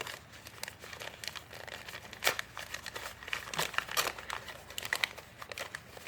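Paper mail packaging is torn and crinkled open close by, with irregular crackling rustles and a few sharper rips, quiet and with no talking.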